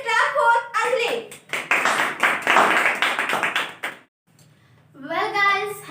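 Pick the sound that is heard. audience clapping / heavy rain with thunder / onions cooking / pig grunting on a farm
audience clapping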